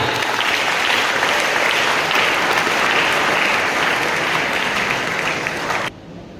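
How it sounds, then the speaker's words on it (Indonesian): Sustained applause from an audience of maritime academy cadets at a public lecture in Jakarta, dense and steady throughout, loud and close, cutting off abruptly near the end to a quieter room tone. "Tepuk tangan itu buat Pak Ahaye"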